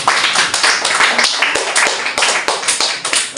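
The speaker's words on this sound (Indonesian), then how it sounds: "berikan aplaus dulu untuk kelompok 1" A small group of students claps together for the first presenting group in a classroom, giving a brisk, loud, continuous run of overlapping hand claps that lasts about three seconds.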